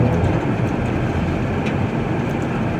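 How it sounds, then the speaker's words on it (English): A hydraulic loader working on a cold morning, its cold hydraulics sluggish and slow to respond, with a steady, loud, rumbling machine drone that holds evenly throughout. "Oh, and the hydraulics are cold on this thing. It is not very responsive this morning."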